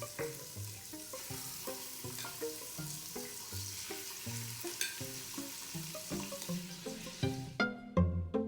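Seasoned chicken browning in grapeseed oil in an Instant Pot, a close sizzle with repeated clinks and scrapes of stirring, growing louder and clattering near the end.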